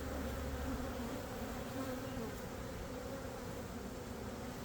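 Dense, loud, continuous buzzing of a honeybee colony stirred up after its queen is removed, a steady swarming drone close by with no pauses.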